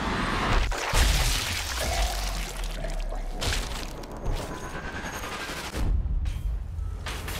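A sniper rifle shot in the video game Sniper Elite 3 at the Siwa Oasis, a loud sharp crack and boom amid continuous rumbling game noise, with no speech.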